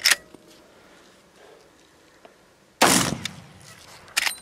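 Gunshots from a firearm fired outdoors crack as two sharp, loud reports with a short echoing tail, separated by quiet pauses and a few faint clicks.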